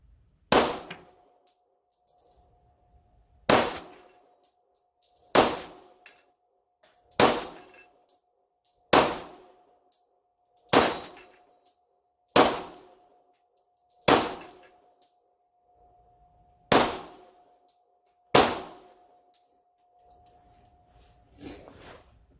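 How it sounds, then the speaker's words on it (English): CZ 40B pistol firing Winchester white box ammo at steel targets outdoors, about eleven sharp shots at a slow, steady pace, each with a ringing metallic ping and a decaying tail, moderately distant. "We're going to shoot a little steel here. These are Winchester white box."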